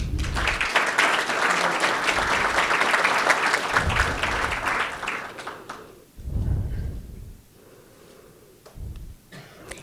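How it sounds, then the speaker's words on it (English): A crowd at a school board meeting applauds steadily for several seconds, the clapping fades, a brief burst returns, then it trails off into scattered claps. "a round of applause"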